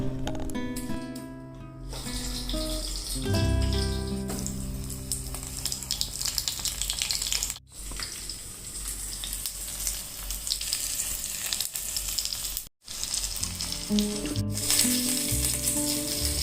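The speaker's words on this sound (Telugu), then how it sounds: "సో పప్పు అయితే ఉడికిపోయింది కదా, ఇప్పుడైతే పోపు పెట్టేస్తున్నానండి" Popu, a tempering for cooked dal, crackles and sizzles loudly in hot oil in a kitchen pan, with stirring. The sizzle is continuous, broken by a few brief silent gaps, with music heard at the start.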